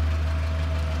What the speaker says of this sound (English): right now I'll show you the tractor.